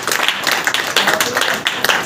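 A church congregation at a Saturday prayer meeting claps hands together in a lively, fairly rhythmic burst of loud, close claps, with no speech.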